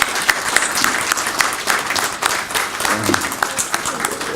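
Sustained applause from a conference audience, a dense wash of clapping that stays steady and full, with a voice briefly audible underneath.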